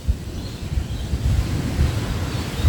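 Ocean surf rolls against a waterfront in a low, continuous wash, steady and fairly close, with wind buffeting the microphone and no voices.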